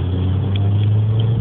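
Car engine during a driving lesson, a steady low hum that rises slightly as the car accelerates, close and continuous over a short moment.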